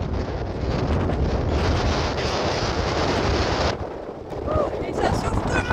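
Strong, steady wind buffeting a microphone, a continuous roaring rush that eases briefly before gusting again.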